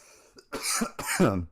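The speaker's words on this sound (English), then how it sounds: "Forgive me if you hear me coughing a lot." A man still getting over an illness lets out two rough, close coughs in quick succession after a faint breath.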